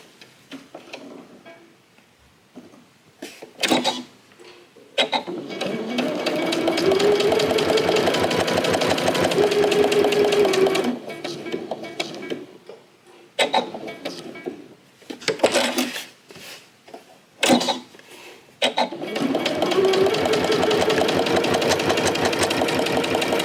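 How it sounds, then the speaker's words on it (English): A sewing machine stitching a pouch, its needle chattering in rapid rhythmic ticks during several sustained runs broken by short pauses and handling clatter, close and clear with no talking. "I'm just going to sew all the way up to that point."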